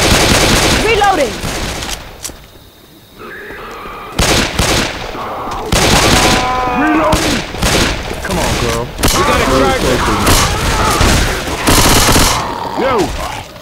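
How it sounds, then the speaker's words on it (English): Rapid game gunfire from Left 4 Dead 2 on The Parish, with loud bursts and single shots in quick clusters, sharp close cracks, brief lulls and shouted voices mixed in. "Stop shooting! I'm reloading!"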